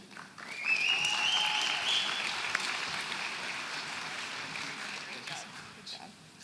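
An audience at a school graduation ceremony breaks into applause with a loud whoop and cheers, clapping swelling then slowly fading over several seconds.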